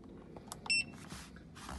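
The timer button on a PROTEAM Inverter iX swimming pool heat pump controller is pressed, giving one short electronic beep amid faint clicks and a low background hum.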